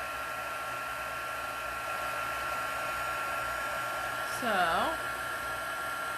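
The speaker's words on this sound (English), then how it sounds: "we've got our tool, heat tool here. And we're just gonna heat that" An embossing heat tool whirs steadily close by, a constant blowing drone while it heats embossing powder on a card; a brief word is spoken and a short warbling squeak rises near the end.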